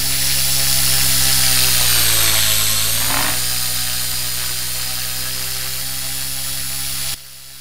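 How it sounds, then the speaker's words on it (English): An RC helicopter motor whines loudly and steadily during rolls, its pitch sagging and bogging briefly midway before recovering, then cutting abruptly to a quieter drone at the end. "Again, you're going to see motor bogging, loss of lift."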